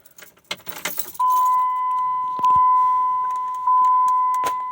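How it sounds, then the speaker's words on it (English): A 2005 Dodge Ram 1500 sounds a steady, loud electronic warning chime that repeats in long tones, following a brief jangle of keys at the start. "sorry about the beeping."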